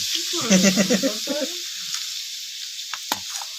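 Egg curry in a pan hissing and bubbling right after water is added, with a loud sizzling burst at the start that fades to a quieter simmer and a few faint clicks.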